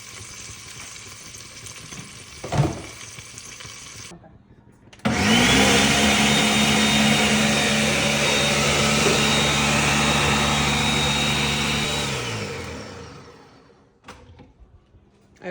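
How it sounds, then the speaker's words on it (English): A few quiet knocks, then a blender roars on loudly blending tomatoes for about nine seconds, winding down as its motor slows and stops. "I have to get my tomatoes blended"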